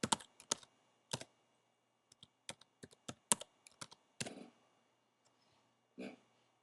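Keyboard typing of a user ID and password, sparse clusters of crisp close keystrokes with pauses between bursts, quiet room with no speech over it.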